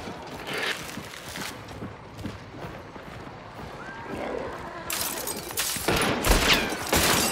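Gunfire in the video game Hunt: Showdown crackles in irregular sharp reports amid horse hoofbeats and busy ambient noise, getting louder in the last couple of seconds.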